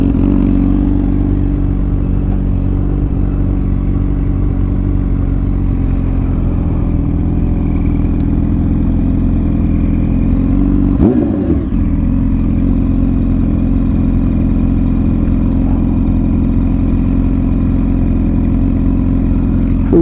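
A Honda Shadow 750 motorcycle ridden through Edmonton streets, its loud, steady engine drone close and continuous, with a brief surge in revs about midway and wind rush underneath.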